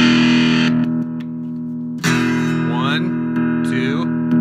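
A three-string cigar box guitar played through a gain switch, with sustained distorted notes and bright sliding pick scrapes ringing out loud and close over a steady droning hum.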